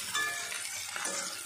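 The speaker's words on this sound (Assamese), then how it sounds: "এয়া মই তেলখিনি গৰম হোৱাত পিঁয়াজখিনি ভাজিলোঁ" Sliced onions fry in hot oil for mutton biryani, giving a bright steady sizzle with a few light stirring clinks from a utensil against the pan. No one speaks.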